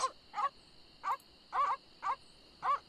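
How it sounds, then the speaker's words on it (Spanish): Guard dogs in The Secret of Monkey Island barking in the game, six short sharp barks in a steady rhythm over a faint constant hum, with no talk. "Estos son los perros guardianes."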